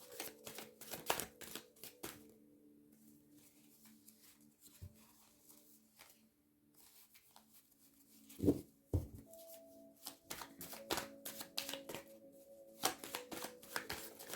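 Tarot cards being shuffled and drawn by hand, close and soft, with bursts of riffling and sharp card snaps separated by quieter pauses in an otherwise calm room.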